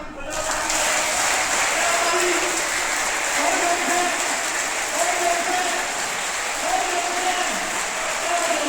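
Schoolchildren and their teachers clapping hands together at a school assembly, a dense, even wash of applause from a large group lasting throughout, with faint sustained tones in the background.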